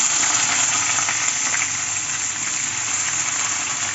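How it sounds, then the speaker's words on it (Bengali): Chopped onion dropped into hot oil for a chilli paneer dish, giving a loud, steady, close sizzle that runs unbroken throughout with no voices. "এই তেলের মধ্যে আমি পেঁয়াজটা দিয়ে দেবো।"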